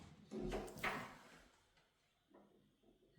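A closet door is opened with a soft bump and sliding rattle, then faint handling noises, near and quiet.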